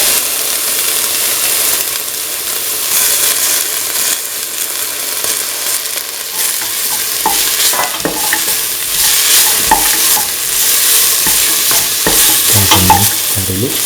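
Fennel seeds, coriander seeds and shallot fry and sizzle in a pan, a continuous crackling hiss broken by scraping stirs and clinks that grow busier toward the end.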